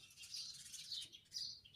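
Faint high sparrow chirps come in short bursts, several sparrows twittering at a distance with no talking.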